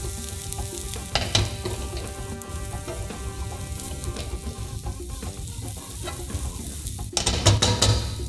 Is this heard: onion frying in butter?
yes